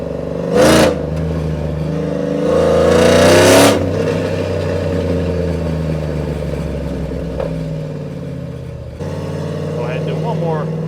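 Cammed Chevrolet Silverado 5.3L V8 with longtube headers, a loud rumbling idle and rev with two sharp bursts early on, then a steady lumpy drone under background talk.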